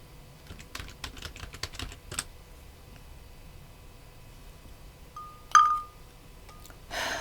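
Fingers type a quick run of keystrokes on a computer keyboard, a clattery burst of close clicks, then a pause, a short electronic beep and a few more taps.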